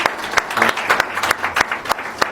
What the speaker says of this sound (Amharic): ከመስራቹ ሞቅ ባለ ጭብጨባ ይረከባል።